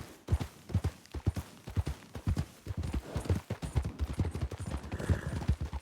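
A horse's hooves clip-clop in steady, brisk rhythm in the WildRP (RedM) game, close and clear throughout with a faint background hiss and no talk.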